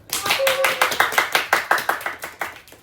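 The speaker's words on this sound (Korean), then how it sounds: "다시 한번 이번 콘텐츠에 도움을 주신 선배님들께 큰 박수 우리 보내볼까요?" A small audience at a talk show claps for guest speakers, the claps coming as distinct, fairly even beats that build into a rhythmic pattern and keep going, close and clear.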